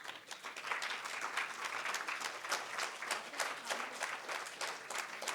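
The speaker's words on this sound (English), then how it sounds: "Could I kindly ask both Sangeeta and Rakesh to stand up so that we can applaud them?" Audience applause at an event honouring two guests, a dense, steady burst of many hands clapping throughout, fairly close and full, with no speech over it.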